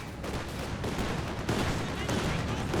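A half-track fires bursts of gunfire at grenadiers in the Company of Heroes war game, rapid repeated shots forming a rattling, fairly quiet barrage over continuous battle noise.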